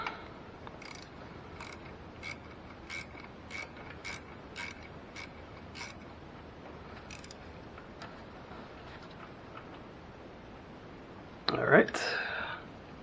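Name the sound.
wrench tightening belt tensioner bolt on 2004 Ford Focus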